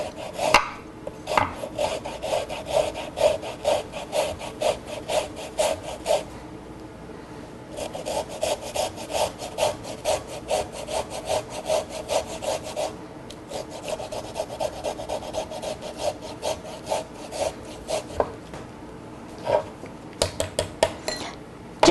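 A fine kitchen grater rasps in quick, steady back-and-forth strokes, close and clear, with short pauses between bursts and a few sharp taps.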